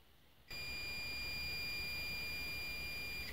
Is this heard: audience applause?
no